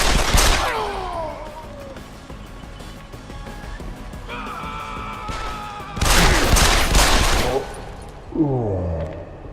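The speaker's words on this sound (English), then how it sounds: "Gunshot!" Gunfire in the video game Deus Ex: Human Revolution: a short burst of shots early on, then a louder, dense volley of rapid fire, with electronic game tones between the bursts.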